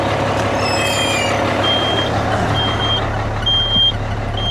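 A steady high-pitched low-air warning beep from a dump truck's air brake system repeats at even intervals over a loud idling truck engine.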